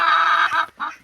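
A hen just off her clutch of eggs clucks and grumbles close by in a loud, continuous burst, pauses briefly, then gives one shorter final cluck.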